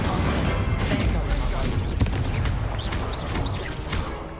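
Incendio fire spells cast during Hogwarts Legacy combat, a dense, continuous roar of bursts and whooshing magic effects with bright chirping flourishes near the end, steady and loud throughout.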